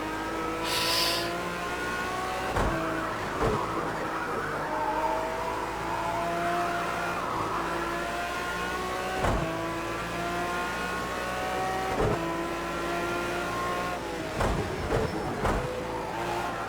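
Race car driving a lap on a circuit, its engine droning and revving continuously with shifting pitch and several sharp gear-change clicks or bumps, loud and close as if heard from inside the car.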